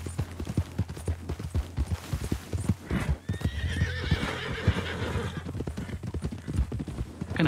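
Thoroughbred horse in the video game Red Dead Redemption 2, with steady clip-clop hoofbeats on the ground and a whinny partway through, close and clear over low background sound.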